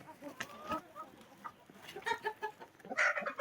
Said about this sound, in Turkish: Tavuklarımız şu şekilde.